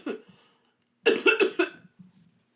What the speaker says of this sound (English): The cough is still bad from the COVID, of course.